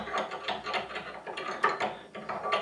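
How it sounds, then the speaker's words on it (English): A cheap Chinese padlock is clamped into a metal vise, giving a run of quick ratcheting clicks and grinding mechanical ticks. The sound comes at close range and continues unevenly throughout. "So therefore, I clamp it into my vise,"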